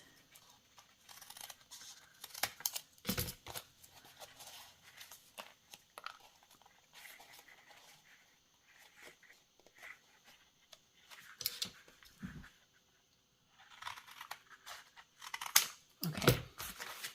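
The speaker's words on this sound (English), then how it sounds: "And then I'm just going to take 3 and cut them into tag shapes." Scissors cut paper into tag shapes in scattered close snips and crisp rustles, separated by quiet gaps, with a few louder handling clatters.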